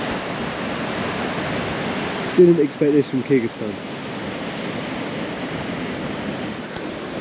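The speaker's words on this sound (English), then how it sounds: "We're at Barskoon Waterfall." Barskoon Waterfall in Kyrgyzstan rushes steadily as a broad, loud roar of falling water, with a brief spoken remark partway through.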